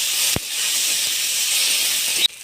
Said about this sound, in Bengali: এই সবগুলোকে হালকা ভেজে নেব।